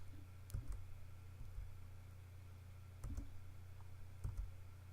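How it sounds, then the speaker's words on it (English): Arrow keys tapped on a computer keyboard: a few faint, isolated clicks spaced about a second or more apart over a low steady electrical hum, no talking. "I can also navigate with the side arrows on my keyboard through the different themes"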